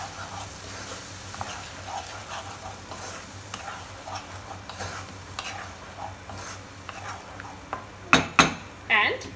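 Eggplant curry seasoned with cardamom powder and salt is stirred in a pan, with quiet scraping over a soft sizzle, then a few loud, close clanks of a spoon against the pan at the end.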